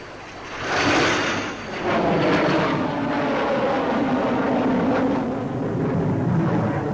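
A Dassault Étendard carrier-based jet fighter roars past at the 1963 Paris Air Show, its loud broadband engine noise surging, then holding a sustained rushing roar with no talk.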